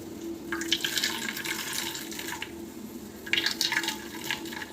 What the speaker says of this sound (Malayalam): തേങ്ങാപ്പാൽ നമുക്ക് ഇങ്ങനെ പിഴിഞ്ഞെടുക്കാം